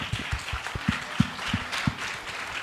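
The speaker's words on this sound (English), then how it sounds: "I think we owe them another thunderous round of applause." Audience applause at a school annual day event rises as a broad wash of clapping, with heavier scattered thumps and claps punching through the noise.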